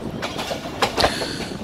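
Allama Iqbal Express running on rails toward Sialkot Junction in rainy weather, giving a steady close rumble with a couple of sharper wheel clacks and no talking.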